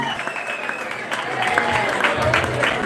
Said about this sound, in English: Give him a round of applause, Kevin Adams.